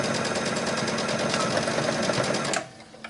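A sewing machine running a continuous rapid stitch while easing fabric around a curve under the presser foot, close and steady, then stopping abruptly with a small click afterward.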